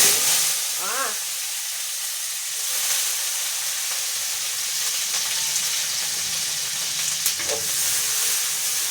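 Vegetables stir-frying in a pan on a home stove, a continuous hissing sizzle with occasional clinks and faint scraping, steady and close throughout.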